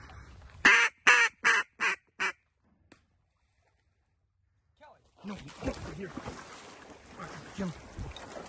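Duck quacks from birds kept since last year at a dog retrieve training session, five loud close calls in quick succession, then a pause before outdoor noise and people talking.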